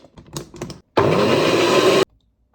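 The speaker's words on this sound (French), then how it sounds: "Je vais quand même mixer le mélange." A blender purees a reduced cooking mixture: a loud, steady whirring burst of about one second that cuts off abruptly, preceded by light kitchen clatter.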